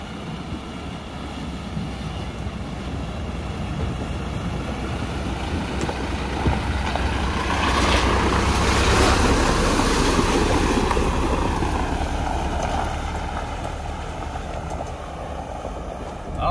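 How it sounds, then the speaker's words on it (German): A vehicle rumbles steadily while driving through a river in Oman, water rushing and sloshing around it, swelling louder midway as it pushes through. "also hier muss man eigentlich so ein bisschen durch den Fluss fahren"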